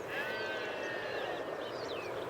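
Sheep bleating at a farm in a steady, continuous chorus with overlapping drawn-out calls, fairly close and fairly loud, with no talking.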